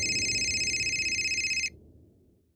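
A telephone rings with a bright, pulsing electronic trill for under two seconds, then cuts off abruptly, leaving a low background hum that fades out.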